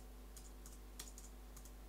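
Rapid keystrokes on a computer keyboard, a few quick clusters of light clicks with short pauses, close and fairly quiet over a faint steady hum.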